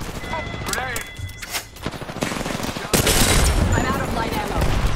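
Gunfire in an Apex Legends battle, bursts of rapid automatic shots and loud impacts mixed with game effects, dense and close, with people talking over it.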